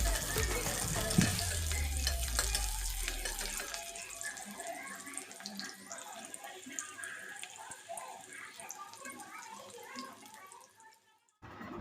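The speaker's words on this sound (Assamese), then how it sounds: "এতিয়া মোৰ পিঁয়াজ ভজা হৈ গৈছে।" Onion and green chilli fry in a pan, beginning with a loud splashing hiss that eases into a steady crackling sizzle, while someone talks over it.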